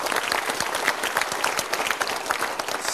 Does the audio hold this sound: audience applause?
yes